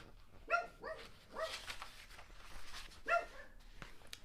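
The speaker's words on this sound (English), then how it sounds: "I love them, but they're sometimes very annoying with their barking." A few dogs at home bark in short, sharp bursts: a quick pair of barks, a third shortly after and one more following a pause. The barking is fairly quiet and somewhat distant, with no talking.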